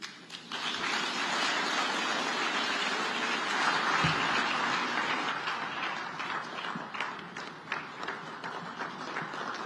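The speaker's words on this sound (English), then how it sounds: "another round of applause for the incoming Sadc Chairman, Dr. Emmerson Dambudzo Mnangagwa" A large summit audience gives sustained applause for the incoming SADC chairman at a meeting in Zimbabwe, a dense and even roar of clapping that thins into scattered individual claps toward the end.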